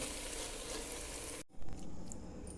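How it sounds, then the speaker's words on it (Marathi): Bread sandwich for a veg sandwich frying in a pan: a steady, close sizzle that cuts off abruptly partway through, then returns as softer crackling with a brief louder burst. "हें आतां ब्रेडा भितर लावन ब्रेड फ्राय केल्यार जालें."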